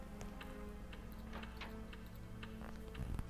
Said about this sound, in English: I hear the grandfather clock.